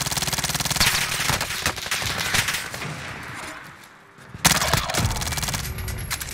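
Rapid automatic gunfire from an EM2 rifle in the video game Call of Duty Warzone on Rebirth Island, heard as loud, dense bursts with a short lull before another burst.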